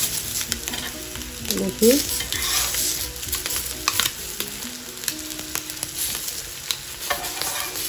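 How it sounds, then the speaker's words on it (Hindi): Halved boiled eggs fry in a pan and are turned with a spatula, giving a continuous close sizzle with scraping stirs throughout and a short spoken word partway through. "सारे को हम इसी तरह टर्न करेंगे और दूसरी तरफ भी हम अच्छे से पकाएंगे इनको"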